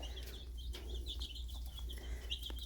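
Chickens cluck and chirp softly in a steady stream of short calls, close by, over a low background hum, with no talk.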